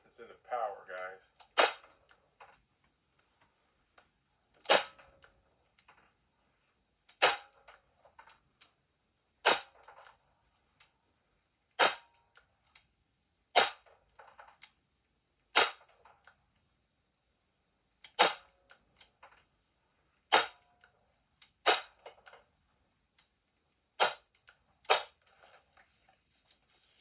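Airgun shots fired in a can-cutting challenge, a dozen or so sharp, close cracks spaced a couple of seconds apart, each followed by a faint metallic tick from the target, with soft handling noises in between.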